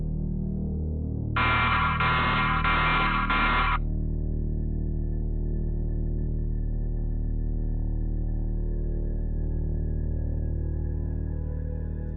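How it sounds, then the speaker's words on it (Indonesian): Alarm sounding on a home CCTV camera recording, a loud steady electronic buzzing tone lasting about two seconds, then cutting off, leaving a faint continuous hum and background noise. "Tidak lama dari itu, alarm pun berbunyi."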